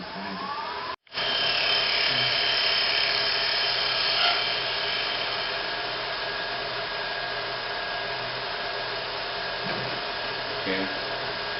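A wood lathe spins a birdhouse ornament blank while it is turned round, giving a steady close whine and hum that starts after a brief dropout and carries on unbroken.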